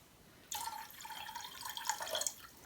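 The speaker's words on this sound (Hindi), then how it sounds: "अब हमने चावलों को भिगोना है, तो इसके अंदर मैं पानी शामिल कर लूँगी" Water pours into a bowl of washed, soaking rice, a steady splashing trickle starting abruptly and running for about two seconds, fairly close and alone.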